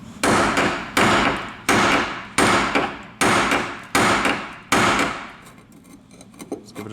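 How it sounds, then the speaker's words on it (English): A hammer drives a chisel against rusted bolts on a Cadillac DeVille: seven sharp, evenly paced metallic strikes close by, each ringing briefly, followed by a quieter stretch of faint handling noise. "get like a chisel and just hammer it a bit, so to loosen it up"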